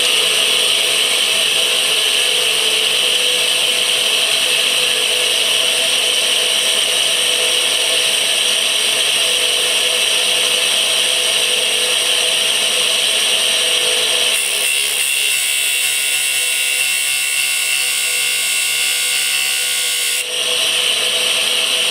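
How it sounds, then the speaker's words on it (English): A grinding wheel cutting a gullet groove into a cutter, a continuous loud, high-pitched abrasive whine that holds steady for the whole stretch with slight changes in tone as pressure shifts, no talking. "All I'm looking for is a groove for the cutter to escape, or the grinding wheel to escape into."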